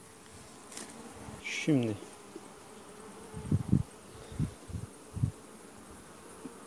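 Honey bees buzz around an open hive during a colony inspection of a weak colony being merged back into its mother hive, with faint, sparse hums rising and falling under quiet outdoor ambience and a brief word spoken.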